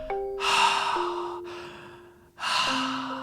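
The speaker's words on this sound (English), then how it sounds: "Often they open their mouth" Someone takes deep, open-mouthed breaths: two long, loud airy inhalations separated by a pause, with a steady tone humming underneath.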